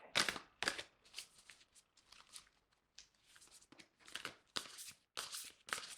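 Tarot deck shuffled by hand up close, a series of crisp papery riffles and snaps in irregular bursts separated by brief pauses, with no talking.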